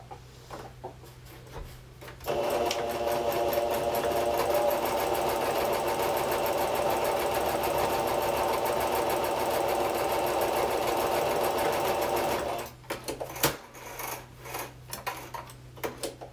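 A sewing machine stitching quilt braid pieces runs in one steady, loud, whirring stretch of about ten seconds, with quieter handling clicks and rustles before and after.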